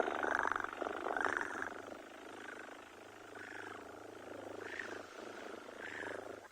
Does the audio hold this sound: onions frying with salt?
no